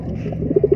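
A pigeon near its newly hatched squabs gives a short run of low, soft coos, three or four muffled pulses close by at the end of a brief, quiet moment.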